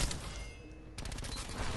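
Rapid bursts of gunfire from a Black Ops 4 multiplayer match, a dense fusillade of close, loud shots with a brief lull partway through.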